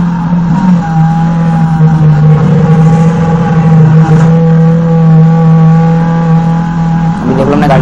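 Race cars in the Need for Speed video game roaring under acceleration, a loud sustained engine drone with tire squeal and skidding, continuous throughout and revving up again near the end.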